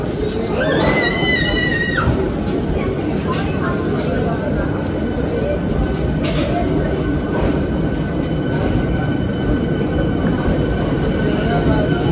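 An air-conditioned local train running from Sealdah to Ranaghat, heard from inside the carriage as a loud, steady rumble and roar, with wheel squeal in the first couple of seconds.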